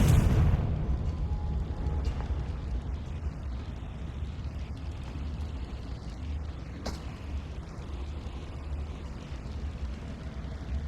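A Confringo spell explodes in the Hogwarts Legacy video game inside a small mine, opening with a loud booming burst that decays into a long rumbling wash with a faint crackle partway through.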